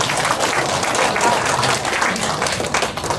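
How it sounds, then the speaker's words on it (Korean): A lecture audience in a hall in Daegu claps loudly and steadily, a dense wash of applause lasting the whole moment with no talk. "박수 크게 한번 쳐주십시오."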